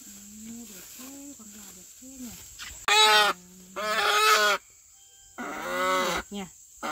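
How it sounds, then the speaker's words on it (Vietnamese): Farm animal calls outdoors in rural Vietnam, a rooster among them: a series of short, nasal honk-like calls, then several loud, drawn-out cries close by, separated by brief pauses. "Con gà trống rồi"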